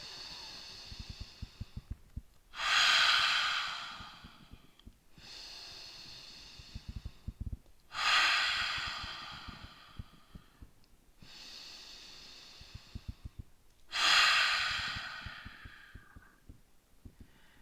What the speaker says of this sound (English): Stick the tongue out. Breathe out.